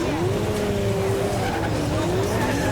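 A drift car in British Drift Championship 2019 Pro Am qualifying warms its tyres, which squeal and skid loudly and steadily over the engine's drone.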